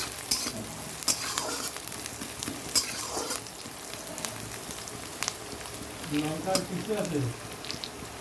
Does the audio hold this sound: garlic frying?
yes